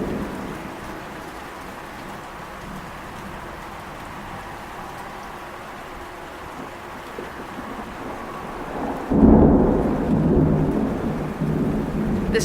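An Oklahoma summer thunderstorm pours steady rain onto a front porch overhang, the hiss constant throughout, until a loud, close thunderclap bursts near the end and rumbles heavily over the rain.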